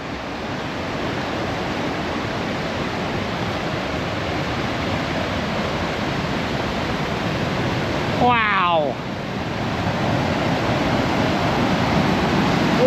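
Roaring whitewater of a waterfall along Washington's Highway 2, a loud, steady broadband rush filling the whole stretch, with a short exclamation from a voice partway through.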